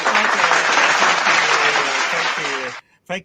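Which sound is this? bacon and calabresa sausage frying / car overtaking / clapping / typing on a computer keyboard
clapping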